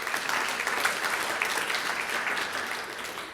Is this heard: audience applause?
yes